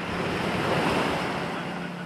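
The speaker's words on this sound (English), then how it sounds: "The waves are picking up a little bit" Steady ocean surf and rushing wind at sea off Mindanao, heard from a boat as a continuous loud wash of broadband noise with rumbling low end and no break.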